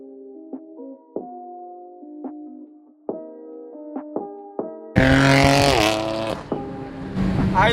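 BMW car engines rumble and rev in short bursts in a line of BMWs on a street, including an E46 M3, then a louder, closer engine roars up and holds as the vehicles move.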